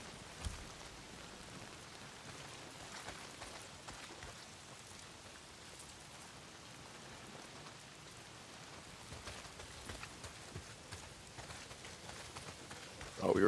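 Steady rain pours down in the open-world game Days Gone, a soft continuous patter of drops on surfaces with scattered louder taps, faint and even throughout, ending in a sudden sharper burst.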